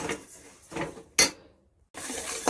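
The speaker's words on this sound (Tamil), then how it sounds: "ஜீரகம் வந்து வறுத்துட்ருக்கேன்" Cumin seeds dry-roasting in a pan for homemade sambar and curry masala powder, stirred in scraping, rattling bursts that stop briefly before resuming loudly, with no voices.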